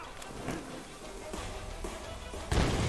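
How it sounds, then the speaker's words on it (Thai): An explosion goes off in the video game Tomb Raider as a loud, sudden burst near the end, following scattered thuds and impacts over game ambience, with no talking during it. "แม่งระเบิดแรงซะด้วย"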